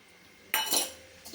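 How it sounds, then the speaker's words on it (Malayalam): A spoon stirs vermicelli rava kichadi with roasted cashews and raisins in a pan, giving a short scraping clink against the metal and a brief rattle after, close and alone. "എന്നിട്ട് ഇളക്കി കൊടുക്കുക."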